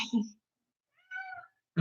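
A pet cat gives a single clear, drawn-out meow between brief bits of nearby human speech, moderately loud in a quiet room.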